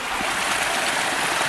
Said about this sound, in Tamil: ஊற்று பாறையிலேருந்து ஊற்று வந்து வருது. அங்கே பாரு சலசலம் எப்படி ஓடி வருது